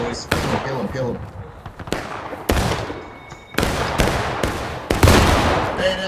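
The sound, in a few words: musket gunfire in the video game War of Rights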